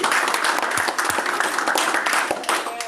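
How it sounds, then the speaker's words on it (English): Clapping breaks out at a school board trustees' meeting, a fairly close, uneven patter of applause from a modest group with a few distinct louder claps, continuing throughout. "You can hear the clap"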